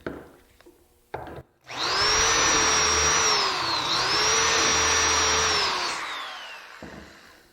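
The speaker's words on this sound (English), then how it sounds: "Slide the drill guide over and drill our 2 remaining holes." A power drill whines loudly and steadily for several seconds, drilling holes through a drill guide for face frame joinery, its pitch dipping briefly midway, after a couple of short starts, then winds down.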